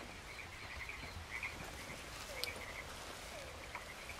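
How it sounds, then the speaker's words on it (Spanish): A toad croaks repeatedly in the Wild West game RedM, a faint, rhythmic, buzzing call that comes in short bursts over a quiet outdoor ambience, with no talk. "¿Estoy oyendo un sapo?"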